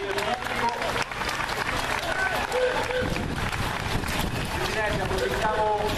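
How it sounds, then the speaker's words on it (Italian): Spectators clapping at a junior cycling race in Budrio di Correggio, a dense outdoor patter of applause under a speaker's amplified voice, with crowd murmur throughout. "applauso del pubblico."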